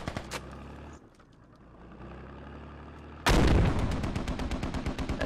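Video game gunfire from a tactical military shooter: a steady background of distant shots, then a sudden loud burst of rapid automatic fire with heavy repeated blasts that carries through to the end.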